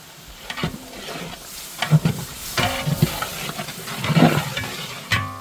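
Garlic fries in a pan while being stirred for a milk shark fish biryani, a loud close sizzle broken by repeated scraping and clattering stirring strokes.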